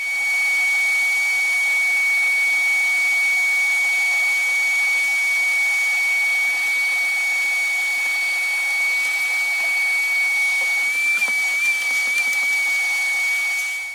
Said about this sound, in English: I'm gonna grab a vacuum real quick